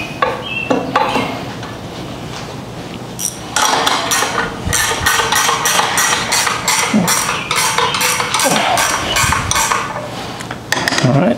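A valve seat cutting machine cuts into a Subaru cylinder head, making a rapid series of sharp metallic chattering bursts after a few clanks of setup, loud and close with no talk over it.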